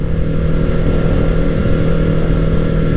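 Honda CBR250RR MC51 parallel-twin motorcycle fitted with an Akrapovic exhaust, running in fourth gear in sport mode with a steady, loud engine drone and a low, even exhaust note throughout, with no talking.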